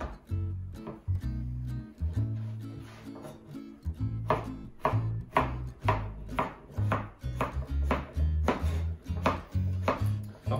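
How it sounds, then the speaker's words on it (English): A knife dices courgette, red pepper and other vegetables on a chopping board for a roast vegetable risotto, giving steady rhythmic chopping strokes, close and clear, that speed up into a quick regular beat. "The vegetables you want to dice up, probably to about a half an inch."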